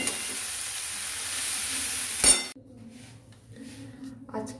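A potato and cauliflower bhaji sizzles steadily in a pan, then the frying noise cuts off abruptly and is followed by quiet clinks of utensils and cookware.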